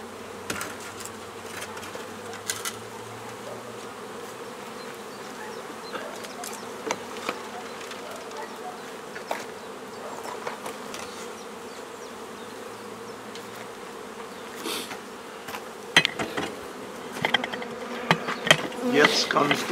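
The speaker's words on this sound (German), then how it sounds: "Die Bienen sind so fein und lieb." Honey bees buzz steadily around an open hive while its bottom board is being cleaned. The soft, continuous hum is dotted with light clicks and knocks, and handling noises grow busier toward the end.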